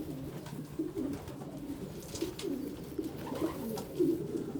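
A racing pigeon, a Macaroni cross Lambrick, coos in low, soft, rolling phrases repeated several times, close and moderately quiet, with faint background noise.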